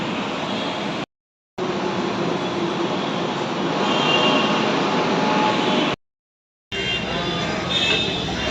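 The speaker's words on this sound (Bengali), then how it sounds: "পেছনে দাঁড়িয়ে রয়েছে মেট্রো" A Kolkata metro train near a station gives a continuous close rumbling hum, with two brief breaks of total silence where the sound cuts out.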